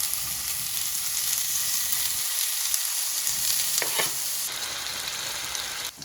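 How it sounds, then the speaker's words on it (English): Chopped bacon fries in a pan with a loud, dense, continuous sizzle and crackle, briefly interrupted by a few stirring scrapes, close and without talk. "Okay, we're gonna fry our bacon."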